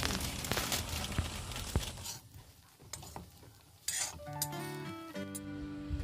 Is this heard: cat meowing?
no